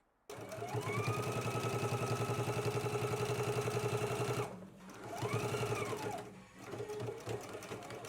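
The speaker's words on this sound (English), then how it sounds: "Let's go ahead and stitch our hem" A sewing machine runs a hem on a McCall's M8601 garment, a steady close mechanical whir with rapid needle pulses for about four seconds, a brief pause, then a shorter second burst.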